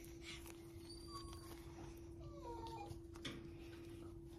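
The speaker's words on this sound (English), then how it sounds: "We don't have a bird, it's just our puppy, Bella" A Bichon Yorkie puppy whimpers in a few thin, high, wavering cries, faint and scattered over a steady background hum with no talking.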